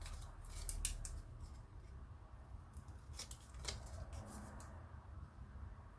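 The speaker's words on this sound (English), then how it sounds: "I'm just going to cut those a little bit more," Scissors snip through paper tabs on a handmade gratitude folio craft project, a series of crisp, close cuts in quick bursts with short pauses, heard alone without talk.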